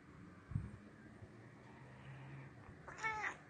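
A cat meows quietly indoors, giving one short, faint meow near the end after a soft brief sound earlier, set against low room noise.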